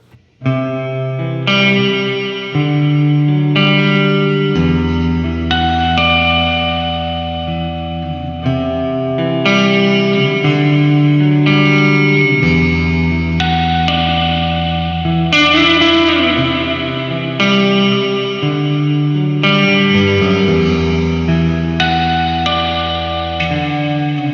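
Sustained electric guitar chords through a Boss RV-5 digital reverb pedal on plate setting wash together under a long, lush reverb tail, notes hanging and overlapping into a dreamy haze, played alone without talking.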